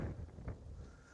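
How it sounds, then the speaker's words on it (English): Wind buffeting the microphone on a blustery riverside walk along the River Mersey, a low rumbling roar in short gusts, fairly faint, with no voices. "it's very windy"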